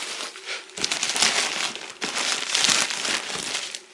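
Crinkly plastic wrapping on period pads rustles and crackles almost nonstop in close, loud bursts, with two short quieter pauses between the handling.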